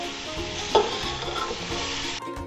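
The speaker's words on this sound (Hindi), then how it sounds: "गोश्त को हम 4 से 5 मिनट हाई फ्लेम पे रोस्ट करेंगे।" Pieces of mutton roast in a pot over a high flame, giving a loud, steady sizzle with stirring and scraping throughout. One sharper clatter comes near the start, and the frying drops away abruptly just before the end.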